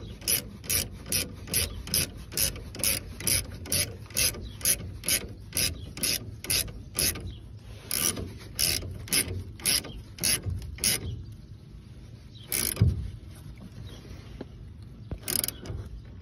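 Ratchet wrench tightening the nut on a Gabriel Load Carrier shock absorber of a 1952 Chevy Styleline, heard up close as a steady run of sharp clicking bursts that pause briefly and resume with a few final strokes, no voices.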